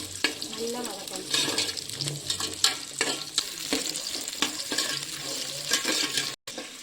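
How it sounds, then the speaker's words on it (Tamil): Garlic and shallots sautéing in a pan for a Tirunelveli sodhi coconut milk curry, a steady close sizzle broken by repeated scraping stirs. "பூண்டு வதங்கினோடனே சின்ன வெங்காயம் போட்டு"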